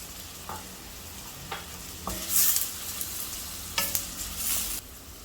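Onions sizzle steadily in a hot pan with a pinch of salt added, broken by several scraping stirs and louder bursts of frying hiss, heard close with no talking.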